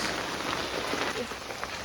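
Dense, steady rain pours down during a village storm, a continuous rushing patter on surfaces with no break and no voices.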